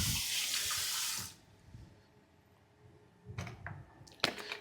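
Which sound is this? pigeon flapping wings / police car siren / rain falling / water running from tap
water running from tap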